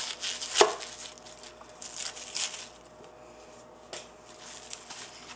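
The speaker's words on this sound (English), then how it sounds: "I'm just going to run my knife through it, make long, thin strips" Knife slicing a halved, cored cabbage into long thin strips for sauerkraut, giving one sharp near chop followed by lighter scattered cuts and soft shuffling, with no talk.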